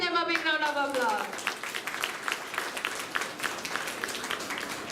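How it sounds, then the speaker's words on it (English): Audience applause at a school event in Bangalore, a short stretch of speech at the start and then a steady patter of many hands clapping, moderately close and sustained. "Please give them a big round of applause."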